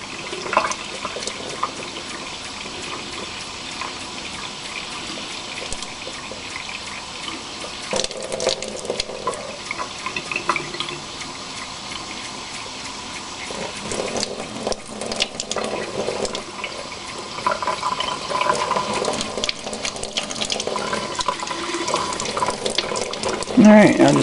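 A tap runs continuously into a chicken waterer, a steady rushing fill with splashing surges that grows louder toward the end.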